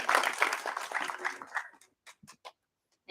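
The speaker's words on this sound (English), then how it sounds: "Brief applause here" Brief audience applause after a startup pitch at a Harvard pitch event, dense clapping that thins out into a few scattered last claps before falling quiet.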